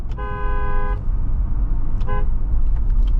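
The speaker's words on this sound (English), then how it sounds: "I'm gonna honk the horn at them. So we're gonna do a quick little horn test." A Jeep Wrangler horn sounds a steady honk for about a second, then a second, shorter honk follows, both loud over a low rumbling engine idle.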